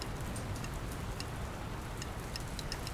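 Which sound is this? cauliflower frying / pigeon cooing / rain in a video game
rain in a video game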